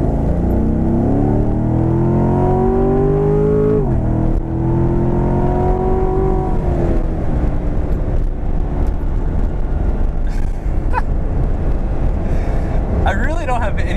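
A 2015 Corvette C7 Stingray with an eight-speed automatic pulls hard from 30 mph, its engine note rising through gears with a shift midway, loud and steady from inside the cabin.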